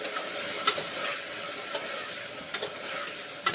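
Chopped cauliflower tipped into a hot pan of chickpeas and potatoes on high gas, giving a steady, quiet sizzle with a few soft clinks and scrapes.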